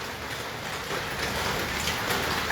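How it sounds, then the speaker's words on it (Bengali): Heavy rain falls steadily outdoors, a dense, even hiss of drops on surfaces that thickens slightly after the first second, close and continuous with no voices. "এই যে বৃষ্টি অজরে বৃষ্টি পড়ছে"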